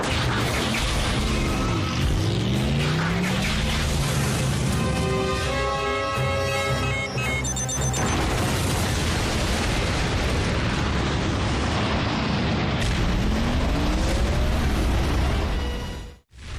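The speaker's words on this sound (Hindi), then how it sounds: "ये जगह फटने वाली है।" A loud, sustained explosion and rumbling crash from the Transformers Prime cartoon fill the whole stretch without pause. Mechanical whirs and sweeping tones run through the roar, which cuts off abruptly at the end.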